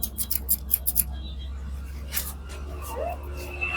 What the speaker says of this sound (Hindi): इस तरीके से हमें कंघा और कैंची चलानी है।